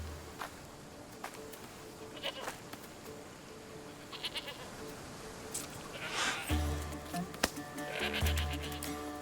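Goats bleat in Assassin's Creed Odyssey, several uneven calls spread across a quiet outdoor game soundscape with faint insect buzzing, the loudest bleats coming near the end.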